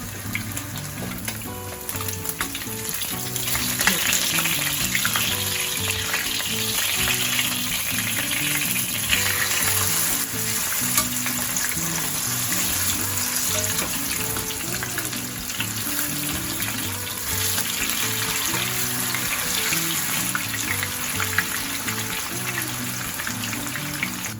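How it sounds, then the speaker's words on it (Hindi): Fish pakora fries on a tawa for Lahori-style crispy fish fry, giving a loud, steady, continuous sizzle and crackle of hot oil that fills the whole stretch without pause. "यहाँ पे हम फिश को बहुत अच्छी तरह से फ्राई कर रहे हैं।"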